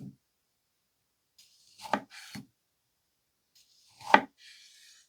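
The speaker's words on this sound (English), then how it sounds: "Let's try out the slicing knife with the tomato." A Coquusaid slicing knife cuts through a tomato on a cutting board, giving a few short, crisp slicing strokes in separate bursts with quiet gaps between them.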